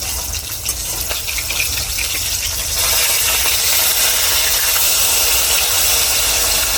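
Rohu fish pieces, just flipped, fry in hot oil in a wok with a dense, continuous sizzling hiss that grows slightly louder partway through, heard up close without any voices.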